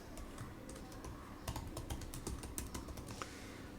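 Rapid keystrokes on a computer keyboard, an uneven run of close clicks that grows busier midway through, over faint background hum.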